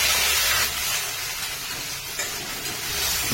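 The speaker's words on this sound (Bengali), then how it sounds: "নেড়ে চেড়ে পেঁয়াজ ভালোভাবে ভেজে নেব।" Chopped onion with whole cumin sizzles in mustard oil in a wok, a loud, steady, hissing fry with slight swells as it is stirred, heard alone without talk.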